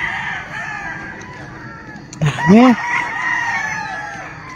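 A rooster crows once at a farm with many chickens, a loud rising-and-falling call standing out briefly over steady background clucking, while a person speaks a word.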